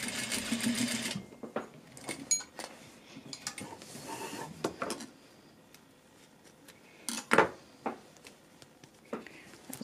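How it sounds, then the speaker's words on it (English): A sewing machine top stitches a J fly on a pair of pants, running in quick steady bursts with short pauses between, close and fairly quiet, with faint handling noises in the gaps. "I'm not doing a real bar tack, but I'm just doing a top stitch right now"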